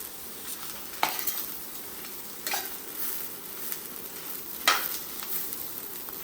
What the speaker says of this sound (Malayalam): അതിൻ്റെ ഇടയിൽ ഇതൊന്ന് ഇളക്കി കൊടുക്കണം